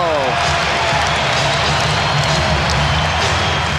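A capacity crowd in a Chicago basketball arena gives a standing ovation after a Michael Jordan move, a steady, loud wash of cheering and applause that fills the whole stretch.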